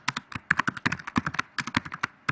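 Rapid typing on a computer keyboard, a close, crisp train of clicking keystrokes in quick irregular bursts with brief pauses and no talking.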